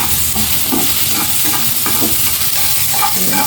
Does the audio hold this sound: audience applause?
no